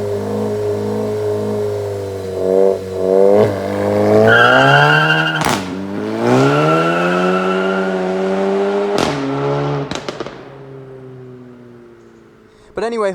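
A VW Mk7 GTI with APR Stage 2 tune and DSG gearbox launches hard, its engine climbing in rising pitch through gear changes with brief shift breaks, loud and close, then easing off near the end.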